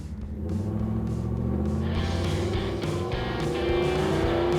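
A Jeep on a backcountry off-road ride, its engine rumbling loudly and close, revving and rising in pitch as it accelerates, heard alone.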